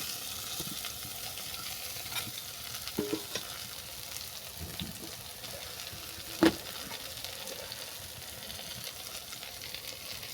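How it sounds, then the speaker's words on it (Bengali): Moringa flowers fry with browned eggplant in a pan, giving a steady, moderate sizzle throughout with a few brief stirring clinks and one sharp utensil tap near the middle; no one speaks. "সজনা ফুল ভাজা।"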